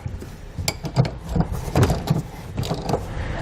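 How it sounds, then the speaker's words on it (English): Mechanical clanking and ratcheting as a spare tire is cranked back up into its carrier beneath a 2019 Subaru Ascent, a run of close, uneven metallic clicks and thumps with no talk. "we can go ahead and put our spare tire back up"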